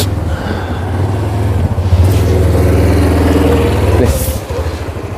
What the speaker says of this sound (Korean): 뒤에 오토바이 옵니다.